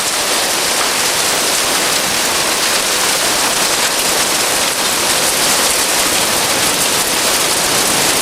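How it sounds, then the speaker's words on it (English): Hail falls on rooftops in a late winter storm, a dense, continuous hiss of countless impacts at steady loudness throughout, with no talking. "Hail on everybody's roof."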